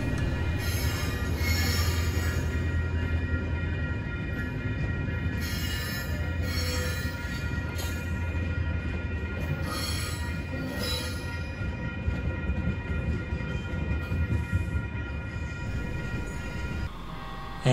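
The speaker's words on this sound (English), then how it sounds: "I caught a northbound coaster train leaving the Santa Fe depot" A northbound Coaster commuter train pulls out of the Santa Fe depot bound for Oceanside, a long continuous rumble of rolling cars with high metallic wheel squeal ringing above it, fairly close and unbroken by voices.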